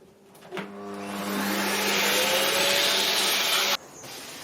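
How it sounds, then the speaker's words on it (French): A vacuum cleaner starts up and whines steadily at close range while cleaning car seats after steaming, then cuts off abruptly near the end. "Bon, on va aspirer maintenant."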